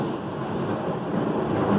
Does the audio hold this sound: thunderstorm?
yes